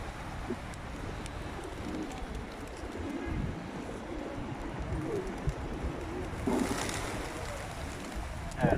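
Pigeons coo softly in a city in Sakarya, Turkey, amid a steady outdoor wash of ambient noise, with low rumbling murmurs throughout.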